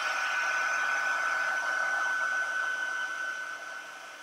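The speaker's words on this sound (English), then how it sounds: "I'm going to take my heat tool and dry it for just a second" A heat tool drying watercolor paint on a card blows with a steady hiss and a high whine, close and fairly loud, and fades slightly at the end.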